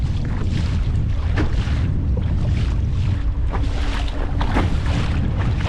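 Strong wind buffets the microphone on open water while riding a Sea Eagle RazorLite kayak driven by a Bixpy skeg motor, a constant loud roaring rush with gusting surges and splashy hull noise, no voices.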